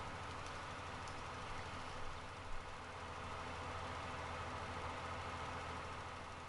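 A tractor engine idles steadily in Farming Simulator 19 on a farm, a continuous low rumble with a faint mechanical drone throughout and a couple of small bumps.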